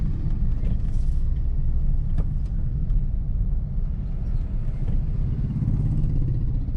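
A car rolls along slowly in second gear, a low steady engine rumble heard from inside the cabin with faint clicks and knocks over it, no talking.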